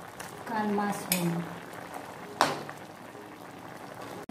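A pot of creamy chicken pastel bubbles at a boil as sausage and canned mushroom go in, with soft bubbling, a few clinks and splashes.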